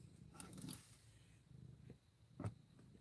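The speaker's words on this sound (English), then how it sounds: "If y'all could hear him, he is just a purring away." A cat purrs softly up close inside a truck, a faint low rumbling with a few light bumps and rustles of movement.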